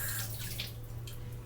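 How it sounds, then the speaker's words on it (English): Potatoes are rinsed under a running kitchen tap, giving a brief, soft, steady rush of flowing water heard close by. "So rinse those potatoes really good"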